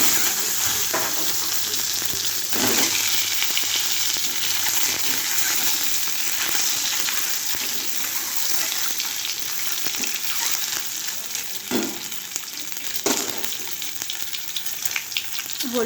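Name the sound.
eggs frying in hot oil in a wok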